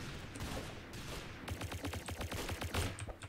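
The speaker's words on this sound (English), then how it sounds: "Wow, the laser rifle now. It sounds a little insane." A laser rifle fires in the Roblox game Arsenal as a rapid, steady burst of sharp repeated shots lasting a couple of seconds, heard at moderate level over game background noise, with no talking.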